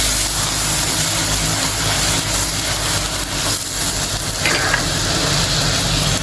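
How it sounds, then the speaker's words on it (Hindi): Garlic and ginger paste fries with onions in a pan as a steady, close sizzle that stays even and unbroken throughout, with no talk over it. "अच्छे से प्याज के साथ भून लेना है 1 से 2 मिनट।"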